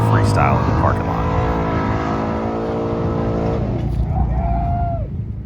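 A car driven freestyle in a parking lot after an autocross at a rally event, with a loud, sustained engine note that rises and falls as it revs and maneuvers close by, with speech over it.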